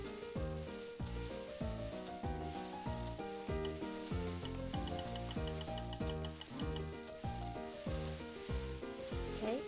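Sausage fries in the Cooking Mama video game, a soft steady sizzle running under loud, bouncy game music for the whole stretch.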